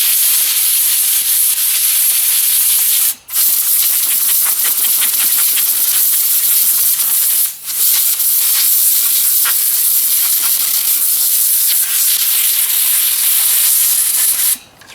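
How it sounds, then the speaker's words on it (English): Loud, sustained hiss of compressed air from an air compressor nozzle blowing dirt off a Kubota K008 mini excavator, with two brief breaks between long blasts and a final cutoff. "maybe just give her a quick little blast of air"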